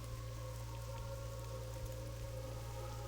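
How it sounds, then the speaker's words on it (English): Steady rain falls in World of Warcraft, a dense, even patter of drops over a constant low hum that continues unchanged throughout, with no voices. "Oh, it's raining!"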